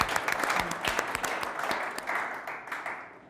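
An audience at a Bay Area tech event applauds with brisk, dense clapping at moderate distance that slowly thins and fades toward the end.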